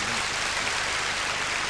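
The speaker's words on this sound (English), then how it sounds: "We've applauded them already." Audience applause for the composers at the 1983 Eurovision Song Contest, a steady, dense wash of clapping from a large crowd that holds evenly throughout without pause or talk.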